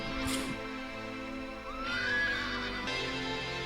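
An Andalusian horse gives a single drawn-out whinny that rises and then falls, heard over a low ambient score with faint background sound.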